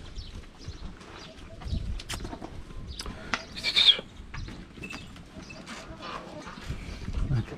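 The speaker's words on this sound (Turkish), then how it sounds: "Köy tavuğumuz bu da." A village chicken on a small farm where sheep are kept gives soft, faint clucks and coo-like calls over outdoor background noise, with a voice speaking nearby.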